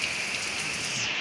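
Heavy rain pours onto a flooded main road in Karyasari, Leuwiliang, Bogor, making a dense, steady hiss of drops hitting water and pavement, close and continuous with no talking.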